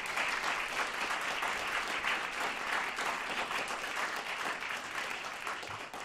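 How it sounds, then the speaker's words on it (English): Audience at the 2023 Avery Fisher Career Grants ceremony applauds honorees, a dense, sustained round of clapping from a large room, moderately distant and fading slightly near the end. "So let's give them a round of applause."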